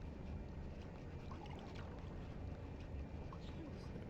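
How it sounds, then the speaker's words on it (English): Low, steady rumbling drone of a submarine's engines in the naval game Silent Hunter III, a constant underwater hum with faint watery swishes throughout. "Let's reduce speed and therefore reduce the engine noise so our hydrophone operator can see if he can hear them"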